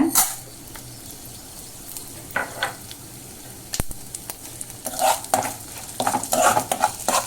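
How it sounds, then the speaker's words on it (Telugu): Mustard seeds, chana dal, urad dal, cumin and dried red chili fry in oil for a cucumber chutney tempering, giving a steady crackling sizzle with spoon scrapes that grow busier toward the end. "ఆవాలు, శనగబ్యాళ్ళు, మినప్పప్పు అన్నీ కలిపాను కదా, అది వేసుకుందాము. ఇది వేగింది"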